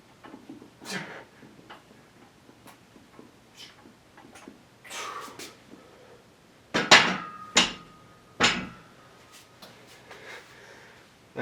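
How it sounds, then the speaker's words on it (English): Workout equipment accidentally striking an indoor ceiling: a few sharp, loud knocks in quick succession after a stretch of quieter clicks and light handling noise. "Accidentally hit the ceiling."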